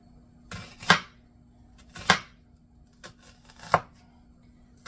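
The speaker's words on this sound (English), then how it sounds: "we want to slice really thin slices" A knife slicing onion thinly on a board, three sharp close cuts about a second apart, followed by a softer fourth stroke, over a quiet background hum.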